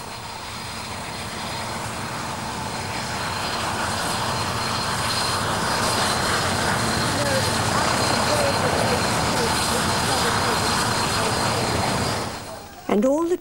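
A helicopter's engine and rotors drone loudly and steadily for several seconds in Mozambique in 1990, then cut off abruptly, with faint voices mixed in.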